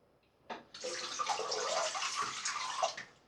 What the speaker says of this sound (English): take it to the tap, give it a good rinse